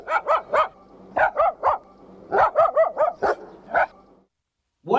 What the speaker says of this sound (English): those were dogs. This one is tricky because we have both a large dog barking with a low voice and a small dog barking with a high voice